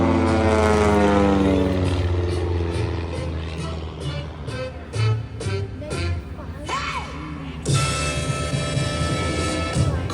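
Aerobatic propeller airplanes of a formation team performing at an airshow over Greenwood Lake: loud droning engines with shifting pitch as the planes roll inverted, under a commentator's announcements, with the roar surging again near the end.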